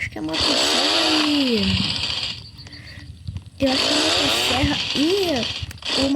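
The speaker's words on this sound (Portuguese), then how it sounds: "Só que a motosserra gasta... é bem mais rápida." Chainsaw cutting wood in a survival video game, two long loud buzzing bursts with rising and falling revs, separated by a short quieter pause.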